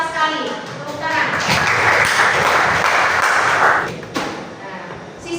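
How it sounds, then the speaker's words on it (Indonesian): A classroom breaks into applause, a burst of many hands clapping that swells for a few seconds and then fades. Voices can be heard around it. "Tepuk tangan."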